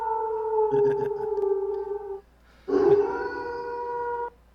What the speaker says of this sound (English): so she howls, and you hear a kind of a rush